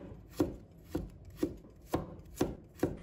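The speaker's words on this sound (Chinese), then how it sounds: "再准备一块去皮的生姜， 把它切成片" Knife chopping through a piece of peeled fresh ginger on a cutting board, six steady, evenly spaced cuts with clear board knocks, close and distinct, no talking.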